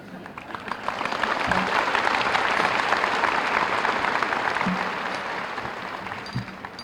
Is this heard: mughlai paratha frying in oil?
no